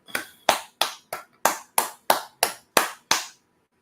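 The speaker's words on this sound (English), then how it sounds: "go ahead and clap it up" Ten sharp, evenly spaced claps ring out at a steady half-second rhythm, crisp and close, with no voices over them; it sounds like a few hands clapping in unison at a brotherhood class meeting rather than a broad crowd.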